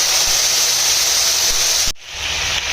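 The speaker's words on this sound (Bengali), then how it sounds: "আদা আর কাঁচা লঙ্কাগুলোকে ততক্ষণ পর্যন্ত ভাজতে হবে যতক্ষণ না পর্যন্ত এর থেকে কাঁচা স্মেলটি চলে যাচ্ছে" Ginger and green chilli paste hisses and sizzles in hot oil in a wok with black cumin seeds, a steady loud frying hiss that cuts off briefly near the end, then resumes more softly.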